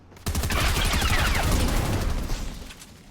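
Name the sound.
assault rifle gunfire from Fortnite video game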